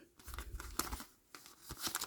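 A small paper surprise packet is torn open by hand, with several bursts of crisp tearing and crinkling at close range and no talk.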